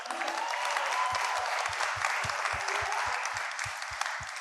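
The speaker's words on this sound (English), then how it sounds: "Let's clap it up for Grant Williams." A crowd applauds steadily at an athletes forum, dense continuous clapping filling the space, with a few louder claps near the front and no voices over it.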